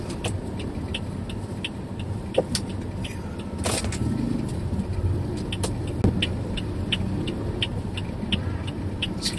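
A car engine hums steadily at low pitch while driving on a road during a driving lesson, with light clicks and ticks over the continuous drone.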